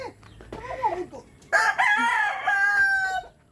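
A rooster crows close and loud, a long drawn-out call following a few shorter clucking notes, heard on its own at a backyard feeding.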